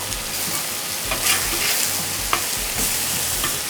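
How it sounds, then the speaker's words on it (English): Steak being flipped in a hot pan for a cowboy stir fry, a loud, close, steady sizzle with a few brief scraping bursts as the meat is turned. "Our steak, I think, is ready to flip."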